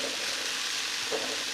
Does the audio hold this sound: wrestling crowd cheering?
no